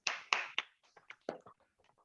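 A few scattered handclaps from an online alumni gathering after a poem recitation, three sharp claps up front followed by faint, sparse taps trailing off.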